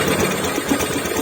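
A Honda Beat Deluxe scooter engine runs during an ECU remap, a loud, steady, close mechanical hum with a slightly rough, uneven idle.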